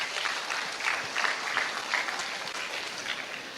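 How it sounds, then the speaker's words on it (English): Audience at a guest talk at a rostrum club applauding, an even, sustained round of clapping from a crowd with faint pulses in intensity and no clear speech. "You don't want to clap for her again?"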